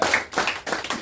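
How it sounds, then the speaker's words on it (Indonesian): A church congregation claps their hands together in a quick burst of overlapping claps, loud and close, lasting about a second. "Yang percaya kepada Tuhan beri tepuk tangan sekali lagi buat Tuhan."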